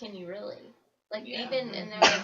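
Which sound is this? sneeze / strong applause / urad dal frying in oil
sneeze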